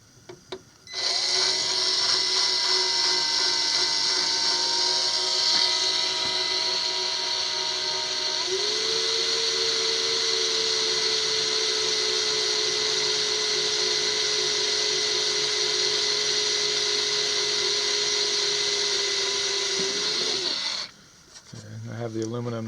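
A high-pitched whine of a drill boring through aluminum angle for an outboard motor bracket runs continuously for about twenty seconds, shifting pitch as it bites, then spins down and stops.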